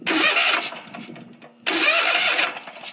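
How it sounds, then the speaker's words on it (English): A Kohler SV-series small engine is cranked by its electric starter and fires up, with a loud whirring crank, a brief dip, then the engine catching and running steadily, close and without talk. "I'll go ahead and turn the engine over."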